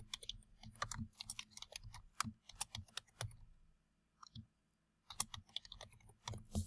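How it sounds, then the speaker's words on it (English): Fast bursts of computer keyboard typing, close and crisp, with clustered key clicks, a short pause midway, then another quick run of keystrokes; no talking. "I'm going to type in penny game base and my last name"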